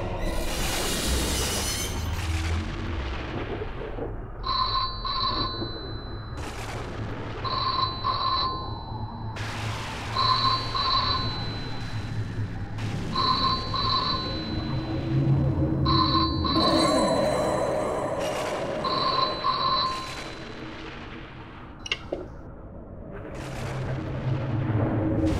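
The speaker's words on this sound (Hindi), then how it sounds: "लगता है फोन की घंटी बज रही है।" A telephone bell rings in repeated bursts with short pauses, loud and close over a steady background hum.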